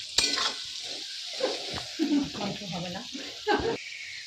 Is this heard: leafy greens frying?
yes